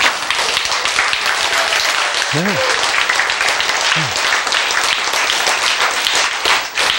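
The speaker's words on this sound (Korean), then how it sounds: "박수 치는 습관만 기르면 돼요." An audience clapping at a lecture, a loud, sustained wash of many hands applauding, with a voice briefly speaking over it partway through.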